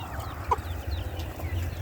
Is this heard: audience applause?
no